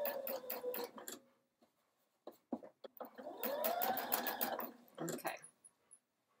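A home sewing machine runs a fixed stitch on shirt fabric in short bursts of rapid mechanical clatter, separated by pauses, close and moderately loud, with a person talking in between.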